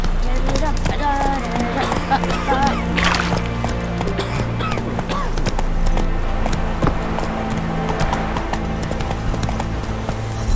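Horse hoofbeats clip-clop in a steady rhythm in The Witcher 3: Wild Hunt, close and moderately loud, with someone talking over them and brief game sounds mixed in.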